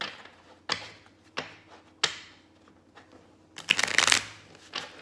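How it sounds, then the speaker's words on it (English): Tarot cards are shuffled hard in a series of crisp, riffling bursts, about six separated attacks with a louder, longer riffle near the end, close and clear with no talk. "these cards need a good hard shuffle"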